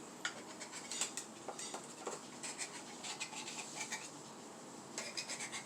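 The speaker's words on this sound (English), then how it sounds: "I'm going to take the back side of my knife because I don't want to scratch my waffle maker too bad" Back of a knife scraping around the edges of a waffle maker to clear excess batter, with a series of faint close metallic scratches and light clinks in short bursts, no talking.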